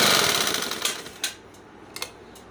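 A sewing machine stitches a kurta strip with a fast, dense mechanical whir up close, easing off into a few short bursts and clicks.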